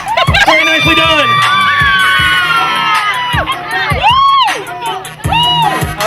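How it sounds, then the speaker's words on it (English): Community crowd cheering at an outdoor ice bucket challenge event: loud, overlapping shrieks, whoops and children's shouts rise and fall over a steady hubbub of voices, with no clear clapping. "Big round of applause."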